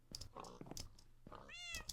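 Kittens meowing in the Minecraft video game, several short high-pitched synthesized mews spread across about two seconds, fairly quiet, with no talk over them.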